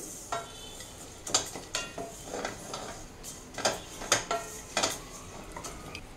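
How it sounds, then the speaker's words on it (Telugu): Flattened rice (atukulu) with cashews and almonds frying in ghee in a pan, with soft sizzling under repeated scraping and tapping of a spoon against the pan. "ఇవి అటుకులు ఫ్రై అవుతున్నాయి కదండి."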